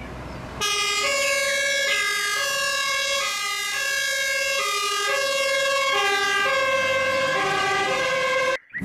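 A toy fire truck siren wails in a loud, steady electronic two-tone pattern, cycling repeatedly up close before cutting off abruptly near the end.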